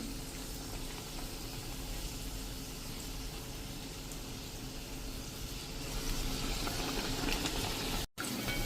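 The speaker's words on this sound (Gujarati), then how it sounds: "ડીપ કરીને તેલમાં મૂકતા જાશું મરચાંના ભજીયાને" Chili bhajiya fritters, whole stuffed green chilies dipped in batter, frying in hot oil, giving a steady, dense sizzle that swells slightly louder toward the end, with no voices.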